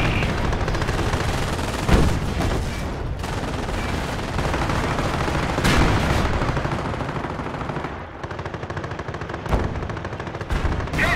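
Battle in the Company of Heroes World War II strategy game at Arnhem bridge, with dense rattling machine-gun bursts and heavy booming tank gun blasts, loud and continuous with no talking.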